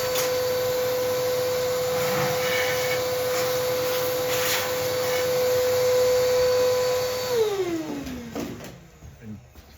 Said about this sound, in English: I'm just going to grab the vacuum again and just give that a vacuum.